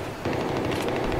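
Gunfire in Battlefield 3 during a 5v5 competitive match on the Metro map: a sudden burst of sharp, rapid shots starts abruptly and continues as a dense, steady rattle to the end.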